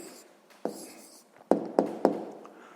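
Writing down an answer by hand on paper, soft scratching strokes with several sharper taps of the pen, close and quiet, with no talk.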